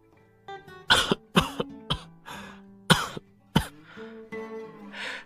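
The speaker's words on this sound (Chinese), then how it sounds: "程曦之忽然开始剧烈的咳嗽了好几声" A character in The Sims video game coughs violently, with a run of about eight harsh, close coughs and throat-clearing bursts separated by short gaps.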